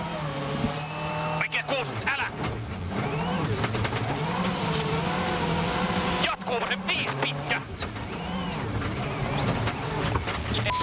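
Two Ford rally cars drive a stage of the 2009 WRC Rally Poland, their engines revving, rising and shifting as they pass, under a commentator's voice.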